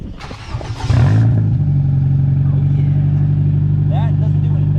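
A 2008 Nissan Versa's engine catches after brief voices and clatter, then settles into a steady, close, loud hum as the car pulls away on a test drive.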